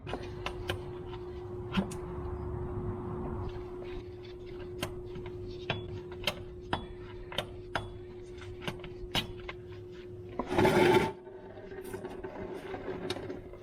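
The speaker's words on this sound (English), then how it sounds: "Now let's get this filter off." Work on removing the hydraulic filter from a Branson 20 series tractor gives a series of sharp, irregular metallic clicks and ticks over a faint steady hum, with a brief louder scraping rattle near the end.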